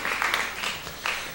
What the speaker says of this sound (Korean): 큰 박수 한번 해주시기를 바랍니다